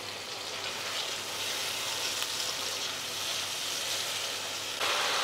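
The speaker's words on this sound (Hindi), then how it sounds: "दही डालने के बाद एक मिनट के लिए और मसाले को भून लेंगे हम" A steady, loud sizzle from spice paste with tomato and yogurt frying in a pan, a continuous hiss and crackle heard up close with no talking.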